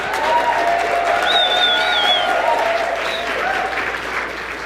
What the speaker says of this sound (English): Stand up, let's give her a big round of applause.